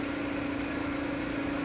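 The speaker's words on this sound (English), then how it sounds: "You can hear it idling right now." Race car engine at the Detroit Grand Prix idling, a steady low hum held evenly and moderately close for the whole moment, with no talk over it.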